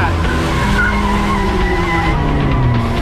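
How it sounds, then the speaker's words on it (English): Car drifting with screeching tire skid in the video game Quantum Break: a loud, sustained squeal of tires over a revving engine, steady throughout with voices talking underneath. "Nice drifting."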